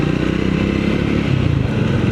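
Motorcycle riding along, a loud steady engine drone with road rumble and wind, continuous and close, no talk.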